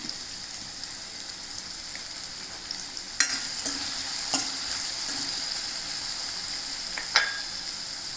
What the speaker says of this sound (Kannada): ಈಗ ಅರಸಿನ ಪುಡಿಯನ್ನು ಹಾಕ್ತಾ ಇದ್ದೇನೆ.